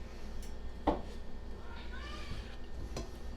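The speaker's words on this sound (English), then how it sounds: "my cat, who decided that he wants to have some of this" A male house cat gives a couple of short meows in a home kitchen while pork chops are being prepared, heard over low room noise with a sharp clatter early on and no talking.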